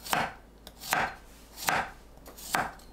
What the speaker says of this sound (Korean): 마늘은 편으로 썰어줍니다.